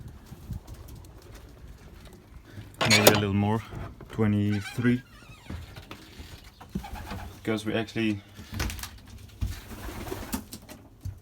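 Belgian racing pigeons coo in a loft, low throaty warbling calls in a few bursts at close range, with someone talking over and between them.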